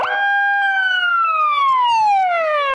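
A police car siren at a school visit by police officers, one loud wailing tone sweeping slowly downward across nearly three seconds, very close and alone with no talk.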